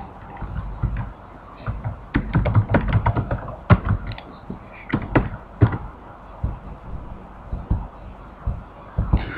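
A command is typed on a computer keyboard into the Windows command prompt, an irregular run of close, clicky keystrokes in quick bursts and pauses, with no talking.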